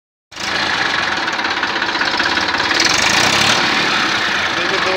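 A 2014 Massey Ferguson 241 DI three-cylinder tractor idles in clean condition, its diesel engine starting abruptly and running as a loud, close, steady knocking throb for the rest of the clip.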